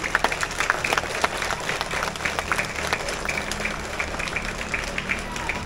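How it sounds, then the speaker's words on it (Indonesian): A crowd at a school flag ceremony for Teachers' Day and the PGRI anniversary at an Indonesian elementary school claps for the teachers, lively scattered applause lasting several seconds at moderate distance. "tepuk tangan untuk Bapak Ibu Gurunya"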